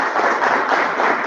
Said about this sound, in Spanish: demos un gran aplauso para nuestro maestro